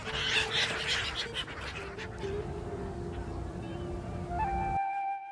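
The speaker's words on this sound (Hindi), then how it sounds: "गंगा यमुना की लहरों पर अटखेलियां करने वाले ये पक्षी साइबेरिया से हर साल हजारों मील का सफर तय कर प्रयागराज पहुंचते हैं।" Flock of migratory birds from Siberia on the Ganga and Yamuna near the confluence at Prayagraj, with duck- and goose-like calls and honks mixed with waterside ambience, steady and moderately loud, while a voice talks over it.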